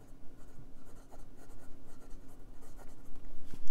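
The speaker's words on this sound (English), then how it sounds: "Let's check the wetness. It's decently wet, and it's very smooth, with a hint of feedback." Eureka PEEK fountain pen with a Bock nib scratching softly across paper, a faint continuous writing sound with small strokes, close and alone.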